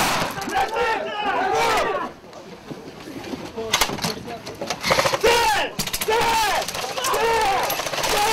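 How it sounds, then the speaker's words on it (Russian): A flashbang grenade bursts during a room-clearing drill: a couple of sharp loud bangs amid shouted commands and voices of the team moving through the doors. "Граната!"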